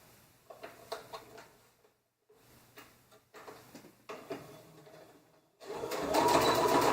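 A home sewing machine stitches the side seams of a sash shirt in several short bursts with brief pauses, its rapid needle whir fairly close, ending in a louder, denser run.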